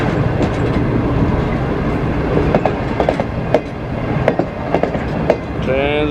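Business Express passenger train rolling along the rails, a loud steady rumble close by with rhythmic clickety-clack wheel knocks over joints and a brief squeal near the end.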